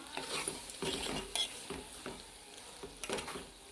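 A spoon stirs a cucumber and drumstick curry in a pan, with soft sizzling and repeated scraping strokes against the metal, faint and close.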